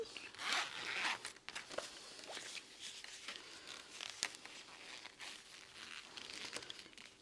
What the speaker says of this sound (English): If you need to unzip, you totally can.